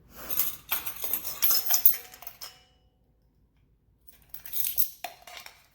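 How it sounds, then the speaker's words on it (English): Almond flour and baking soda are whisked together in a bowl, with two bursts of quick, bright metal-on-bowl clinking separated by a quiet pause. No one speaks. "the dry ingredients are getting mixed together"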